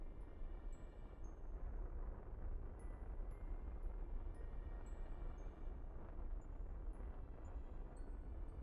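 A rocket engine fires in Kerbal Space Program with the Kerbalism mod, giving a low, steady, roaring rumble that stays faint and even throughout, with thin high tones above it.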